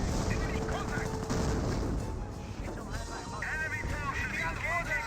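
Rifle and machine-gun fire crackle steadily across a World War II Company of Heroes battle, with rifle grenades and distant artillery mixed in, all under continuous talk.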